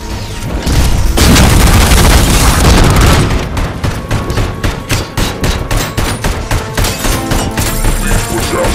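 Loud, sustained gunfire from the ED-209 robot in the Robocop: Rogue City video game, a dense roaring barrage for three seconds giving way to a steady rhythmic stream of rapid shots.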